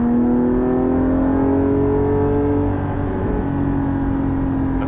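A Porsche 718 GT4 heard from inside the cabin while driving, its engine and exhaust a loud, steady droning hum that holds nearly constant pitch and volume throughout, with no talking.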